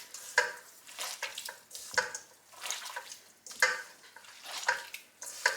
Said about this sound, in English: So I'm going to mix really well and let it to sit in here for a good half an hour.